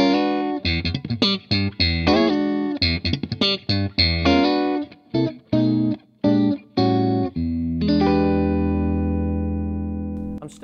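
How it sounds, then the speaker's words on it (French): Clean electric guitar through the clean channel of a Vox Night Train NT50H-G2 tube amp head, played with percussive, choppy strums and picked notes, ending on a sustained chord ringing out with the amp's built-in reverb. "Je vais commencer avec le premier canal que je considère comme le canal clair"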